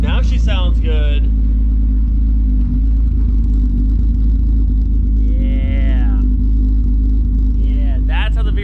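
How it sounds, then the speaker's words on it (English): A Volkswagen MK3 VR6 engine runs at a steady, loud, close idle with a deep, continuous rumble, while someone talks over it now and then. "That's how the VR6 is supposed to sound"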